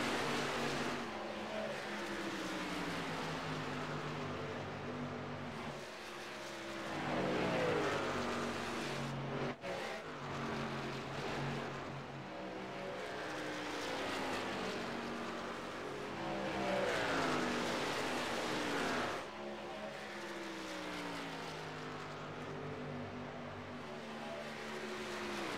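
Racing trucks at Atlanta Motor Speedway roar with sustained engine noise, swelling and fading as they rev and shift through a steady throttle rhythm with occasional passes, no voices heard.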